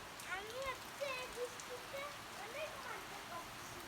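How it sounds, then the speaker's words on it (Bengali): Stormy rain falls onto a balcony as a steady, soft broadband hiss, with a voice speaking over it throughout. "ঝড়ো বৃষ্টি।"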